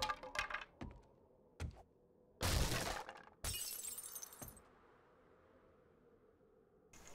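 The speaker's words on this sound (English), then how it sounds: "I heard glass break." Glass shatters in the video game 7 Days to Die, two loud crashing bursts of breaking glass among a few sharp clicks and knocks, then a faint lingering tinkle in a quiet space.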